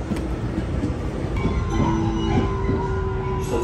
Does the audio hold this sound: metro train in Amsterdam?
yes